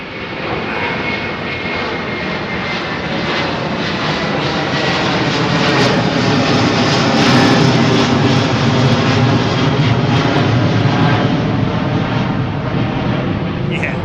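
A jet airliner with CF6 engines takes off overhead from London Heathrow's runway 09R, its loud, continuous engine roar building slightly and holding steady throughout, with no other sounds.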